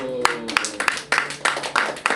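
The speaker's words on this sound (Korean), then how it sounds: "하나님 앞에 감사의 박수." Church congregation clapping in thanks during a Korean worship service, a ragged spread of hand claps with rhythmic bursts, fairly close and moderately loud.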